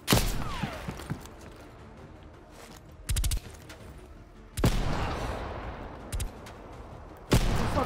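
Gunshots in a Call of Duty Black Ops Cold War story mission, loud separate bursts and single booms spaced irregularly over a low rumbling background, with no talking.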